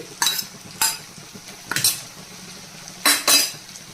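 Karela chana dal with chopped pickle being mixed in a pan, several distinct metal spoon scrapes and clanks against the pan over a low background sizzle.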